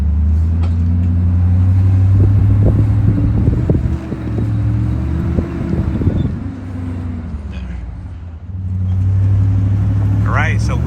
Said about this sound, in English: we hooked them up on the front and now we're pulling them forward